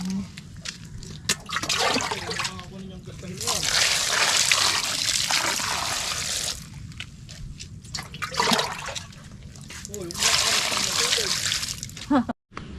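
Freshly caught milkfish are washed with water scooped from a drum: loud, close splashing and gushing in uneven surges, with voices at times in the background.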